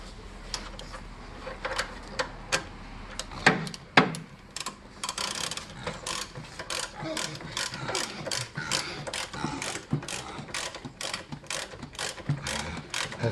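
A ratchet clicks repeatedly while cranking down a fastener on a 1986 Toyota Corolla GT Twin Cam, with bursts of quick pawl ticks and a couple of sharper clunks, close and moderately loud, no talking.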